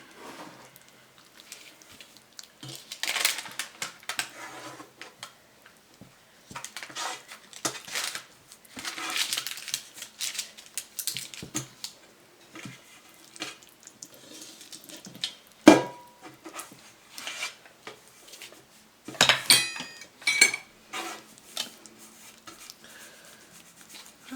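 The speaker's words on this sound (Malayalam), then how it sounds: "കേക്ക് ബാറ്ററിലേക്ക് നമ്മളുടെ നട്ട്സ് ഇട്ട് കൊടുക്കാം കേട്ടോ. എന്നിട്ട് മിക്സ് ചെയ്തെടുക്കുക." Nuts being stirred into cake batter for an eggless Kerala-style plum fruit cake, with soft, irregular scraping and clinking of a utensil against a bowl, moderately close, plus a sharp knock near the middle and no talk.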